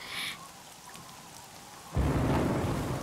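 Thunder rolls, then heavy rain bursts in and falls steadily and loudly in a horror film scene; no voices are heard.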